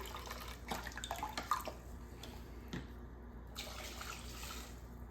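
Tap water runs into a measuring cup for mushroom soup, a quiet close trickle and splash with a few drips and clinks, no talking.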